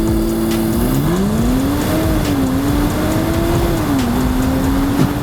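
A 2024 BMW X5 accelerates with a steady, loud engine drone rising in pitch, dropping and climbing again at gear shifts, heard from inside the car with no talking.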